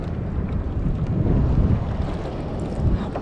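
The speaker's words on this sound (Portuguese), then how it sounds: "tem um vento também que ajuda a soprar" Strong wind blows across the open sea during a fishing trip aboard a boat, a steady, loud rushing buffet on the microphone with low rumbling gusts and no talk.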